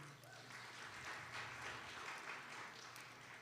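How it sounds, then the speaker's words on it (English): Applause from an audience at a qawwali concert introduction sounds as a faint, distant, continuous wash of clapping held at an even level throughout. "a big round of applause"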